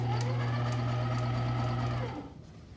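A sewing machine runs steadily, stitching an understitch along a seam allowance and lining, with a loud droning motor hum for about two seconds before stopping abruptly into quiet.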